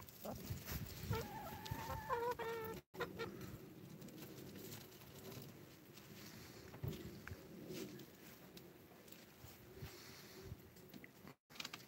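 Chickens cluck and call in a farmyard, a steady stream of soft clucks with a few louder squawks near the start, moderately close and alone without talk.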